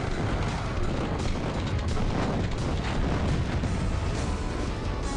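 An explosion in the Duke Nukem 3D video game fills the stretch with loud, dense, roaring blast noise that stays steady for five seconds, with no voices.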